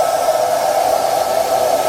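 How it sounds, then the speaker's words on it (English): Steady hiss of air escaping from a motorcycle tire as it is deflated to remove the tire from its wheel, a continuous close rush with no breaks. "we're gonna be removing the tire from the wheel, which we start out removing all that air"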